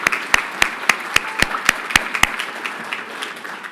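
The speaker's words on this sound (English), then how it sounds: "a round of applause for Pierre." Sharp, evenly spaced handclaps at the 2024 FAIR Institute Europe Summit awards ceremony, roughly nine distinct claps in a steady rhythm, then thinning into softer scattered clapping that fades out.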